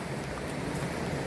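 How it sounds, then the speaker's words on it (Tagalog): Rain falls steadily at a beach resort in Laiya, Batangas, a dense, continuous hiss of drops pattering on surfaces, fairly loud and unbroken, with no voices. "Kasi palakas-lakas din yung ulan eh."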